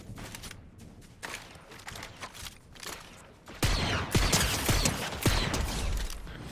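Gunfire in the Fortnite video game, bursts of shots that start faint and distant, then grow louder and closer into a rapid fusillade with sharp individual cracks.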